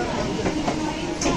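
A Kolkata local train on the Barrackpore to B.B.D. Bag line runs past houses, a short steady rattle and rumble of carriages heard up close.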